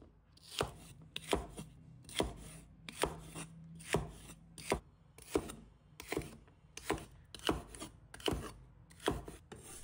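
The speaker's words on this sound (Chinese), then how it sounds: "刮干净后，把它切成片，片要切均匀一些" Knife slicing scraped celery into even pieces on a board, a close, regular series of sharp chopping taps at a steady rhythm, with no talk.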